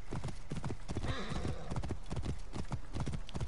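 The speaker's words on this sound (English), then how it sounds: "It's a flaming horse, bro." The hooves of a flaming horse in a video game clip-clop rhythmically and fast, close and prominent. A neigh rises briefly partway through.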